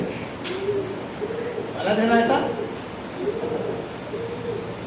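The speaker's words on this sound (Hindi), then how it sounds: "कौन आवाज़ कर रही है? कबूतर।" Pigeons coo in soft, low, rolling phrases, close by, while a person speaks briefly over them.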